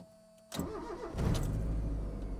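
A 1995 Mazda Miata MX-5 NA with a manual transmission and a freshly replaced starter cranks briefly after a quiet moment, then fires and settles into a steady, rumbling idle, heard up close.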